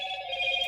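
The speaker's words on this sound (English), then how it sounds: "There goes my phone." A phone notification chime rings as a steady, sustained electronic tone, short and fairly close, heard alone without talking.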